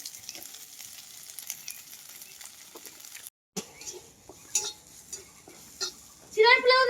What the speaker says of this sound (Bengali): পেঁয়াজটা বেশি ভাজতে লাগে না হালকা